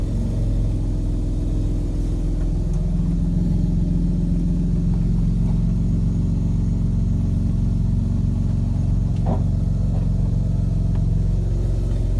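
A Toyota Land Cruiser engine runs steadily at a low, even rumble nearby, with a faint rattle or two over the continuous drone and no talking.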